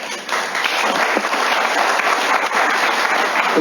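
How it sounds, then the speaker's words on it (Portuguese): Congregation clapping during a Catholic sermon in Portuguese, loud continuous applause close and sustained throughout, no speech over it. "Aplauda a palavra."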